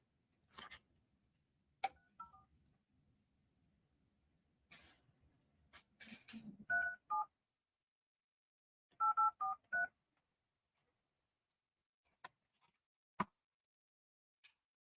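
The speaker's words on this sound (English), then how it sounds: "Probably have to call her off my personal cell phone." A cell phone keypad plays short DTMF dialing tones in a couple of quick clusters, crisp and close, with taps and handling clicks in an otherwise quiet room.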